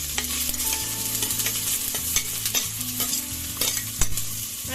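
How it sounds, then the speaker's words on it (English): Onions stirred into hot oil with chili garlic paste in a single pot, loud sizzling and frying with repeated scraping stirs and utensil knocks against the pan, no voices. "Now I'm going to add onions."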